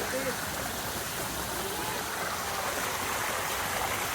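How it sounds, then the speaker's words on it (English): A waterfall in San Antonio, Texas, at night during the holidays, pours as a loud, continuous rushing wash that stays steady from start to finish. "And the waterfall heads up this direction."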